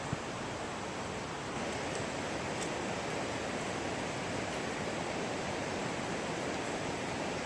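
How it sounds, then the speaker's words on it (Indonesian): A fast, heavy river rushes steadily in a rural plantation setting, a dense continuous roar filling the whole clip with no talk and only faint high chirps above. "di bawah kita bisa mendengar suara kicauan burung dan suara aliran sungai yang sangat deras."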